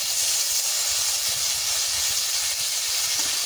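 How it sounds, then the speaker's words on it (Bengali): Cumin and ground spices sizzle in hot mustard oil for a Bengali-style duck curry, making a steady, close, continuous hiss with no breaks and no voices. "মশলা দিয়ে দিচ্ছি তেলের পরে।"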